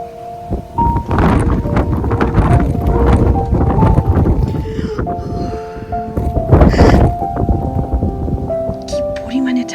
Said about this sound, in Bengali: মোবাইল ধরে রাখা যাচ্ছে না, এত বাতাস।